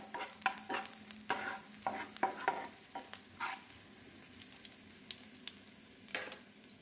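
Garlic, cumin and green chillies fry in a pan with a quiet, continuous crackle and scattered sharp pops, and no one speaks.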